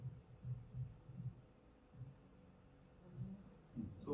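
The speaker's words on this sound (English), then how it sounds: "And then in the neighbor's room it sounds like this." Music heard muffled through the wall from a neighbor's room, very faint, with only a dull low thumping rhythm getting through and almost no treble.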